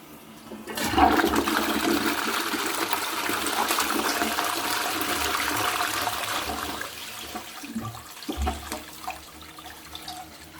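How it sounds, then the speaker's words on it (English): A Twyford Option close-coupled lever dual-flush toilet from around 2020 flushes with a loud rushing gush that holds steady for several seconds, then tapers into gurgling and refilling water. "So when I think it's ready to be flushed, I'll flush it."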